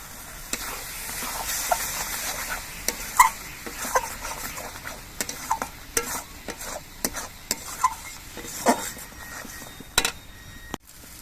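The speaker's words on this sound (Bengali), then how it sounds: "মশলাগুলো আমি বেশ কিছুক্ষণ কষিয়ে নিয়েছি" A spatula scrapes and clacks rhythmically through spices sautéing in a pan for a Bengali green jackfruit and shrimp dish. Crisp strokes sound over a low sizzle, close and alone.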